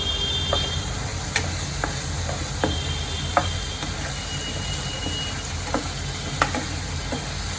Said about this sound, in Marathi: सगळ्यांना एकदम चांगलं तेलामध्ये तळून घेते